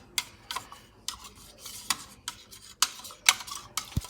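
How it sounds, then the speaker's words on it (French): A spoon handle mixing brioche dough with chocolate chips in a bowl: short scraping, rubbing strokes at an uneven rhythm, close and fairly quiet, ending with a small knock. "moi je vais utiliser le manche d'une cuillère. Il faut vraiment bien mélanger."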